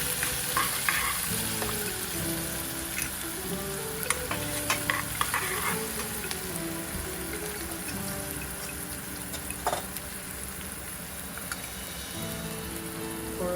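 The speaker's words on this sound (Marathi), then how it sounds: "आता मी थोडी हिरवी मिरची पेस्ट टाकत आहे" Green chilli paste fries in a pan for a tomato chutney, with busy continuous sizzling and the scrape and clatter of stirring throughout, and no talking.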